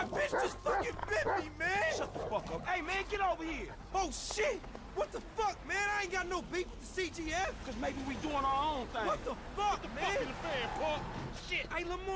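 Chop, the dog in Grand Theft Auto V, makes a close, busy run of yips, whimpers and barks, rising and falling almost without pause.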